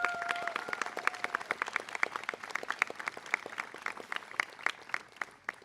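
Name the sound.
audience applause at graduation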